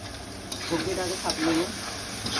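Onions added to a pan for a fish curry sizzle steadily close by, with a few scraping stir strokes and a faint voice speaking underneath.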